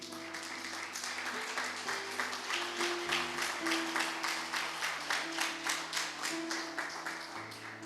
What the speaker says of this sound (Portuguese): Aplauda o Senhor também.